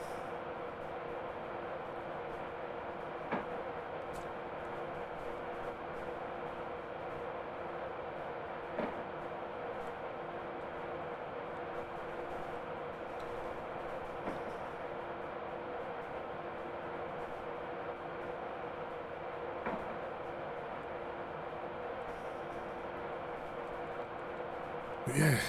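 A train in the Train Simulator Classic game runs from Newcastle to Edinburgh, giving a steady, moderate rolling rumble with a constant engine drone and faint periodic clicks from the rails over a long stretch.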